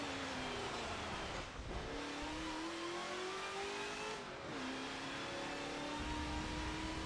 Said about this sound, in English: Man, this car sounds great.